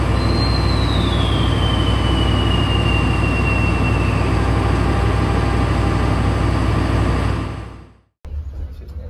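Inside a Bengawan economy class passenger train, the carriage runs with a loud, constant rumble of wheels on rails and a thin whining squeal that slowly falls in pitch. Near the end the roar drops out abruptly, then a fainter rumble returns.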